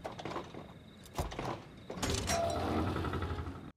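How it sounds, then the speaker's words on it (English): A sliding door opens in a TV drama, a mechanical whirring slide with a couple of knocks that swells into a steady rumbling hum for a few seconds before cutting off, heard alone without talk. "That door opening up sounded like the mystery box opening up in Black Ops Zombies"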